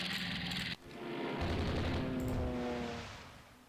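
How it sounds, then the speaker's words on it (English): Torpedoes strike warships in Rule the Waves 2, a deep booming explosion swelling and rumbling for a few seconds before fading, loud and close, after a brief burst of higher noise. "Two more torpedoes finding their targets."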